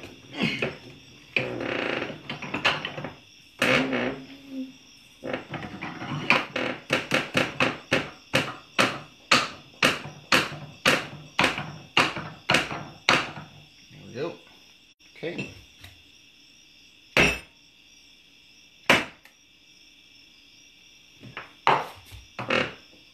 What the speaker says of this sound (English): let me find a punch that will punch this thing out of here without doing anything crazy